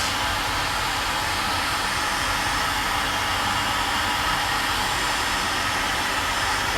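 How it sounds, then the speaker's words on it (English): A hot air blower hisses steadily and loudly throughout, heating cuts in material for an Alien Xenomorph costume, a constant close whoosh with no talking. "Apply heat to those cuts."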